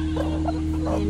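Broody hen sitting near her eggs and chicks, giving a few soft, low clucks close by over a steady background hum.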